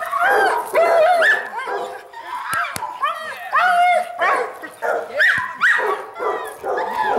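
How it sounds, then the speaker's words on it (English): A puppy doing bite work for the first time yips and whines in excited bursts while people talk and praise it close by outdoors, with a couple of sharp clacks mixed in. "This is Keegan, first time doing bite work."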